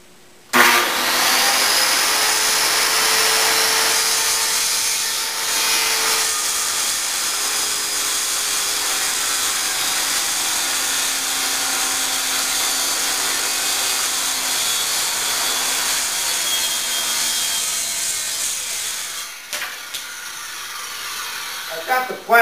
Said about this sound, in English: Now I'm flattening one side, and I'm using my big 16-inch grizzly jointer.